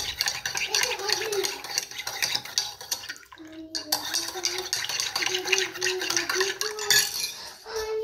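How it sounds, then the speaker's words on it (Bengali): A spoon stirs lemon sherbet in a glass in a home kitchen, clinking and scraping continuously close by, with a brief pause midway before the rhythmic clatter resumes. "আমি লেবু শরবত বানিয়ে দিচ্ছি"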